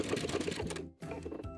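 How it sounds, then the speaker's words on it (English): A home sewing machine stitches the final bar tack of a buttonhole on a wrap skirt, giving a fast close run of needle clatter that stops briefly, then resumes in a short second burst. "make sure you hit your reverse button one more time to finish off the buttonhole"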